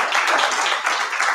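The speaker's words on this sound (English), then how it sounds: "You want to give him a round of applause," Audience at a live writers' event in a library applauding a guest speaker, a dense, steady round of clapping filling the short moment, close and moderately loud with no talk over it.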